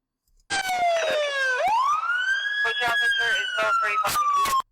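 A loud, close police car siren wails at a street crime scene, sweeping down and then climbing back to a sustained high tone, with sharp clicks and knocks scattered throughout.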